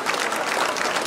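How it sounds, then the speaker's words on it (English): A brief burst of crowd applause in the show ring at the 2015 Bailey County Junior Livestock Show, clapping for the young lamb exhibitors, dense and even. "let's give all the youngsters that showed today a round of applause"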